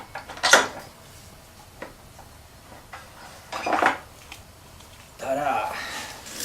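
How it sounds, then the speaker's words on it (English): Front axle of a Yamaha V-Star 1100 Custom/Classic slid through the wheel hub, several short metallic clinks and scrapes in separate bursts, close by, with quiet pauses between. "grab our axle and get it through there"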